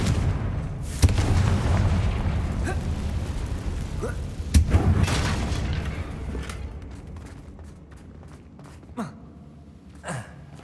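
A Confringo fire spell in the Hogwarts Legacy video game bursts with a heavy boom, followed by rumbling blasts and crackling impacts. Further sharp hits come later as the sound thins out.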